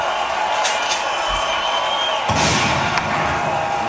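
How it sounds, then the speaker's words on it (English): A studio audience at a live talk show applauds and cheers steadily, a dense wash of clapping with a louder swell of whoops partway through. "keep the applause going"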